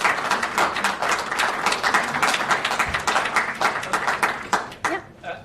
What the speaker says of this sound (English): Please give Rob and Barry a round of applause